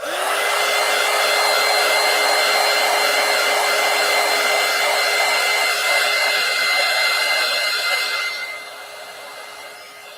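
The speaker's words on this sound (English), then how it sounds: "I got to dry them just a little bit more" A hair dryer blows a steady, loud whir over freshly layered gelli print papers, drying them, then drops to a softer hum near the end.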